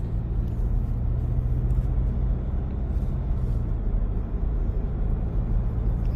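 Steady low rumble of a Ford Ranger Raptor pickup gently accelerating under light throttle, a constant droning engine and road noise with no clear revving peaks.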